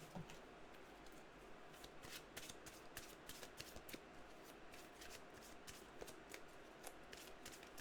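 A deck of cards is shuffled repeatedly, producing quick riffling bursts and soft slaps in a steady, close rhythm with no talking.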